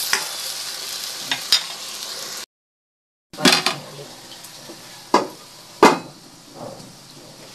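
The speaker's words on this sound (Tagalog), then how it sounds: "Lagay natin ang itlog. Para maluto siya dyan." Adobo with eggs sizzles steadily in a pan while a utensil stirs and scrapes, giving several sharp clinks and knocks against the pan, close up, broken by a brief silent gap.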